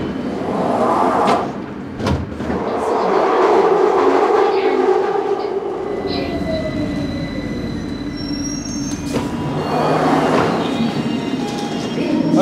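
A London Underground tube train rumbles loudly at close range, with metallic wheel squeals and screeches rising and falling over a constant roar from the carriage.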